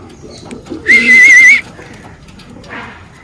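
A single loud pigeon call rises sharply for about half a second in a pigeon loft, then a softer faint call follows, over quiet background.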